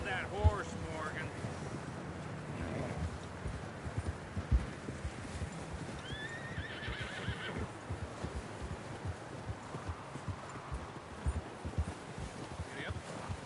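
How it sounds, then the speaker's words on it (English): Horse hooves in Red Dead Redemption clip-clop steadily over a rough outdoor background with wind noise, the footfalls close and continuous, with faint whistling tones drifting in. "Get a hold of that horse, Morgan."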